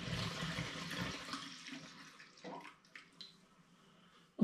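Pineapple and mango wine pours and splashes noisily into a glass demijohn, tapering into softer trickles and drips, with a clink at the very end.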